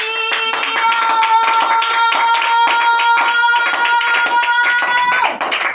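A church congregation claps in steady rhythmic unison to acclaim Jesus, loud and close, over sustained held tones of music until the clapping stops near the end.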